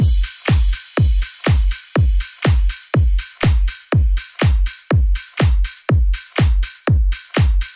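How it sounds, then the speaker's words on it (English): A steady electronic trance drum loop with a punchy kick on each beat and crisp offbeat hi-hats, loud and evenly repeating with no voices. "Together the drums sound like this."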